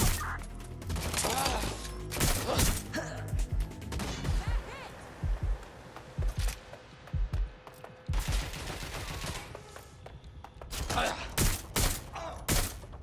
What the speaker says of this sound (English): Suspect shooting! Get back up to my location.